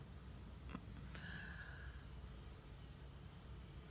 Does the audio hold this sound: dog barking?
no